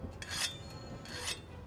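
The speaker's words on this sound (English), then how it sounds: "Gotta sharpen my hammer." A hammer is sharpened in a video game: two short abrasive rasping strokes, separated by a pause, over a quiet background hum.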